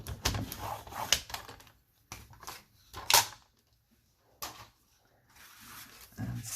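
Scissors snip off part of a junk journal page with a die-cut negative, giving several short, close crisp cuts and paper rustles separated by quiet gaps.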